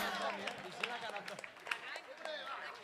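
An audience applauds for a performer named Laura at the end of a touring show, with scattered claps, shuffling and voices over a quiet, distant background.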